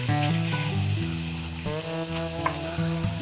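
Small three-ounce hamburger patties hit a hot griddle and burst into a loud, steady sizzle, crackling continuously and close up, with faint tonal sounds running underneath.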